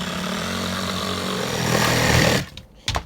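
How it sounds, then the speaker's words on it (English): A power tool trims the plywood edges on an RV roof under replacement, a loud, steady buzzing whine held for over two seconds, then cut off abruptly, followed by a brief quiet and a short final burst. "All the plywood is up and we're just trimming the edges off."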